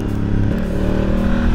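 A 2018 Honda Africa Twin Adventure Sports motorcycle engine revs with a full, throaty drone, holding steady at about 4000 rpm, close and loud throughout.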